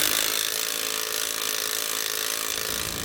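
A 9/16 bolt on a SumoSprings helper spring being tightened with a 9/16 socket and wrench under a truck frame, heard as a continuous bright, scraping mechanical whir at steady loudness with no pauses or voices.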